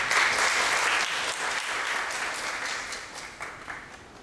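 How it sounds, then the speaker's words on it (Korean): An indoor forum audience claps for an incoming congratulatory speaker, a dense, even wash of applause that starts full and slowly thins out toward the end. "큰 박수 부탁드립니다."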